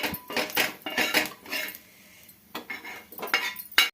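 Beaten egg mixture being mixed with onions in a bowl for an omelette: quick bursts of a utensil clattering against the bowl, close by, with a brief pause midway before the mixing resumes.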